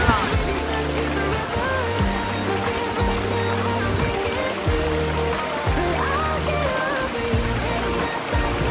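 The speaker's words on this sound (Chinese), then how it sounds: "哇哦，这个瀑布好大呀！" A large waterfall in a Kauai rainforest roars as a steady, dense wash of falling water, loud and unbroken, with rhythmic low thumps running underneath.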